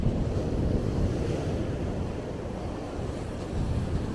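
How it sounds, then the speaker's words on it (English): Sea waves breaking and wind blowing on the Norfolk coast beside the coast path, a steady loud roar of surf with wind buffeting the microphone throughout, no voices. "Right next to the sea now."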